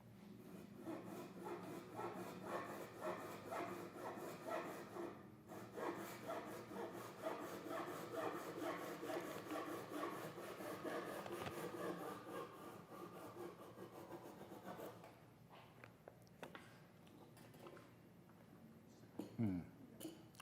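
A Japanese handsaw cuts wood held against a crosscut guide fence, giving steady rhythmic rasping strokes for most of the stretch before slowing and stopping, close up at low level.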